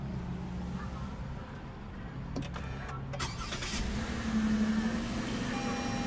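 A 2017 car's 3.5-liter V6 engine idles steadily with a low, even hum, while faint clicks and a brief rise in revs sound partway through.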